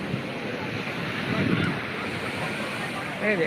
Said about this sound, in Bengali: দেখো ফ্রেন্ড খুব সমুদ্রের আওয়াজ হচ্ছে